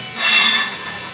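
DTF printer running a print-head cleaning cycle: a short, close mechanical whir and hiss that rises briefly and then settles, with no voices.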